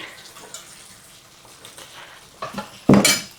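A pan of skillet cabbage roll meal with onion gets a brief stir, a spoon scraping and clattering against the metal in one sharp burst near the end after quiet kitchen rustling.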